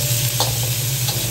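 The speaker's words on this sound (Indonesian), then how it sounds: "Saya masukkan, kemudian saya aduk rata" Sliced kenikir greens are stirred in a hot pan, giving a steady frying hiss with two soft scraping strokes, close and alone without any talk.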